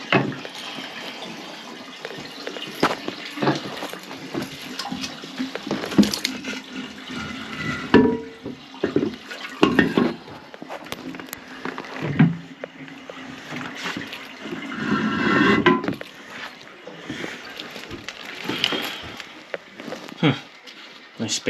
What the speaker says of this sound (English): I never heard a toilet actually make that noise.